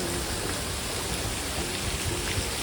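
Garden fountains at Saheliyon Ki Bari in Udaipur spray water onto the trees, making a dense, steady rain-like hiss and patter that stays loud and unbroken throughout, with no voices.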